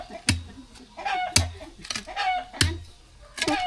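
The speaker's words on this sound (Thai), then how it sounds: "มีไก่กระแตให้ฟัง" Chickens cluck nearby in short repeated bursts, punctuated by a few sharp clicks or taps at regular intervals.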